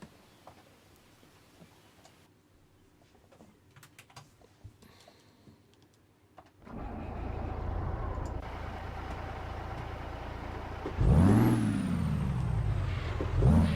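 A truck engine in a trucking video game starts up and settles into a loud, throaty idle, then rises in a revving surge near the end after a stretch of quiet clicking and ticking.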